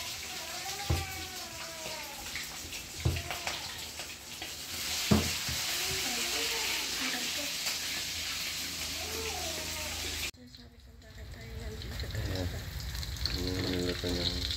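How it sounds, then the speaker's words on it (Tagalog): Corned beef sizzles steadily in a frying pan for a home breakfast, with occasional scrapes of a spatula stirring it while a voice talks over the cooking throughout. "Magluluto na si Mrs. ng pang breakfast namin na corned beef."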